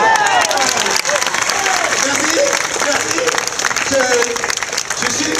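Street performance crowd in Aurillac clapping steadily and loudly throughout, a dense continuous wash of applause with a performer's brief spoken thanks and some cheering voices in the mix.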